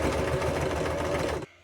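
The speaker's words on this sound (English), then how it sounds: "And then we are going to just sew it. Straight stitch, any length," A sewing machine runs a straight stitch through a thick rolled jellyroll rug of fabric and batting, a fast steady whirring hum held close up for just over a second before cutting off abruptly.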